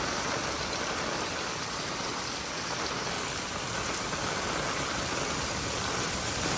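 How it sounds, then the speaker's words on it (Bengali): Fast floodwater rushes through the flooded streets of Vrindavan in heavy rain, making a dense, unbroken hiss and roar that stays loud and even throughout with no talking. "দেখুন কত স্পিডে জল আসছে"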